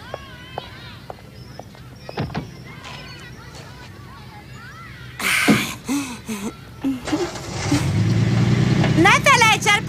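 A car pulls away, its engine building to a steady rumble toward the end after a stretch of talking and scattered clattering sounds.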